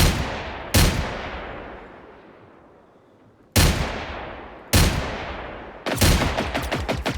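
Pistol shots in the video game Generation Zero: four loud, widely spaced blasts, each trailing off in a long echo, followed by a rapid burst of repeated gunfire at the end.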